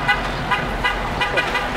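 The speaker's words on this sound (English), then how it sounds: "Someone's honking at me." A car horn honks in repeated short toots over steady road traffic noise, heard from a spot overlooking Myrtle Beach.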